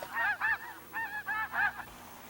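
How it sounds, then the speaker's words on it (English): Snow geese honk on Wrangel Island in the Soviet Arctic as they begin their autumn migration, a series of five or six loud, nasal calls in quick uneven bursts, close and clear with no voices. "The snow geese are beginning their 3-month migration to their wintering grounds in the south."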